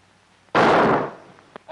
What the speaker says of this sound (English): Gunfire! Cannons! Revolution!